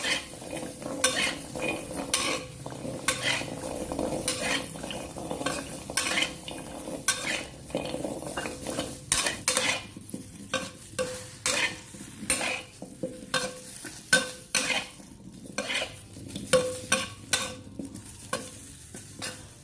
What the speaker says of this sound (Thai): นำหอมแดงแล้วก็กระเทียมคั่วต่อเลยนะคะ